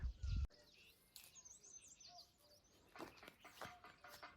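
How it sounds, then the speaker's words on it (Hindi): A sharp thump at the start, then faint, scattered parrot calls and chirps from a distance in an almond orchard in Shimla, clustering near the end. "तोते आए होंगे, नीचे से चा चा चा ऐसे कर रहे हैं।"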